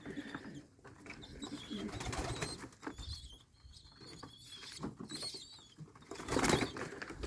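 Pigeons in a wooden dovecote kept for sport breeding, including white and lemon-colored birds, with soft cooing, rustling and occasional wing flaps close by, fairly busy throughout.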